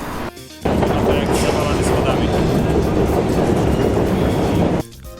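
Kyiv metro train riding, a steady loud rumble of wheels and motor filling the carriage after a brief quieter moment, continuous and close with no talk over it.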